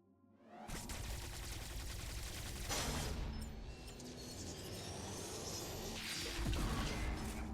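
A boss is shot at in the video game Metroid Dread: dense, continuous rapid-fire blasts and whooshing impacts roar loudly throughout, with no talking.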